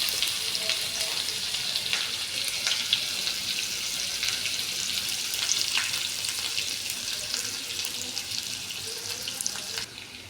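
Ginger paste fries in oil in a wok, giving a close, continuous hissing sizzle with faint stirring scrapes, easing off at the very end.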